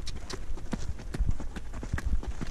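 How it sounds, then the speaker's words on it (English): Donkey hooves clip-clop steadily on the stony path to the Treasury at Petra, Jordan, a close, loud, even rhythm of hard hoof strikes under outdoor noise. "Still on a donkey."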